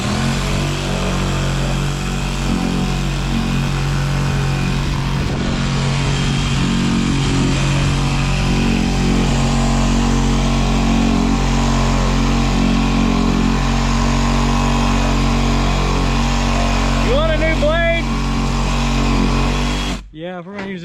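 A Sawzall reciprocating saw cuts through boards during castle work, its motor droning loud and steady with a rough, buzzing edge for about twenty seconds before cutting off at the end, with faint voices underneath.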